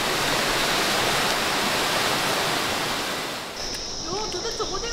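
A large waterfall on an Annapurna trek in the Himalayas roars steadily as a dense, powerful rush of water, with a high whistle-like tone and faint chirps near the end.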